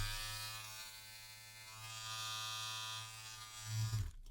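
A Braun All-in-One Style Kit Series 3 3450 trimmer runs with a steady, close electric buzz that holds even for about four seconds, then stutters and cuts off with a short clatter.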